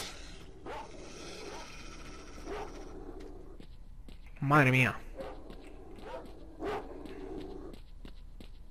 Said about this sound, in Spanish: Perros de mierda.